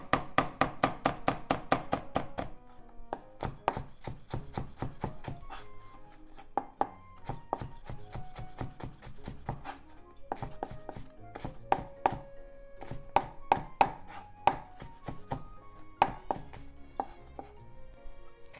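A knife chopping vegetables into very thin strips on a cutting board, rapid bursts of crisp taps at first, then slower, irregular cuts close by.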